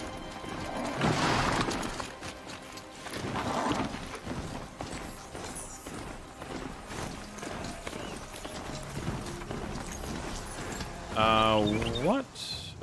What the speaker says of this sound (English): We can always call a horse.